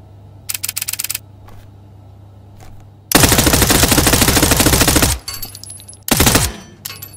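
Automatic gunfire from a video game weapon such as an M4, MP5 or Glock 18, heard as a short burst, then a long sustained loud volley lasting about two seconds, and another brief burst near the end.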